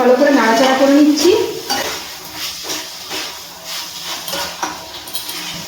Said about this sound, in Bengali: মটরশুঁটি দিয়ে চিকেনের সাথে একটু ভালো করে নাড়াচাড়া করে নিচ্ছি।